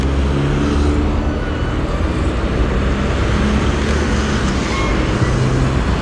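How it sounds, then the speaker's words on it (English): A car passes a street crossing in Munich, a loud, close tyre-and-engine rush riding over steady city traffic noise, with no voices. "there's this first car"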